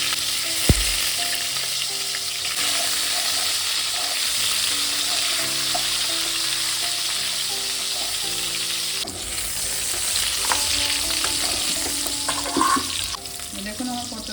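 Pointed gourds frying in mustard oil with nigella seeds, a loud, close, continuous sizzle with spoon stirring and scraping in the pan and occasional clinks, no talk.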